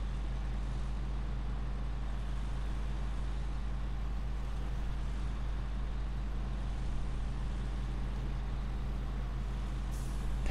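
Steady low engine drone of a GMC Brigadier truck in the SnowRunner video game, a constant rumble at moderate level with no talking.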